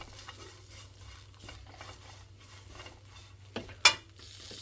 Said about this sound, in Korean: 센 불에다가 한번 싹 볶고 다시 약한 불로 해서